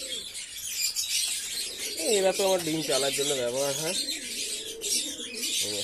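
Domestic pigeons coo in low, rolling phrases near the middle of the clip, with soft background hiss and a person talking over them.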